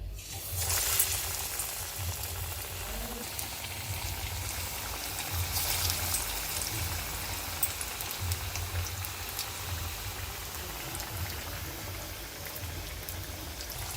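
Stuffed bottle gourd bajji frying in hot oil, a steady, soft bubbling sizzle that runs evenly throughout without pause and with no voices.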